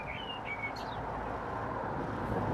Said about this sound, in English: Isn't that blackbird absolutely stunning?